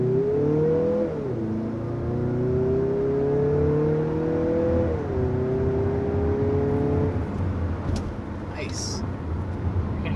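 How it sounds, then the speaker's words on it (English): A 2023 Mazda CX-50 turbo engine accelerates, its rising tone climbing through two gear shifts with turbo whir, then settling into road noise. Faint talk is heard near the end. "Hear the turbocharger too."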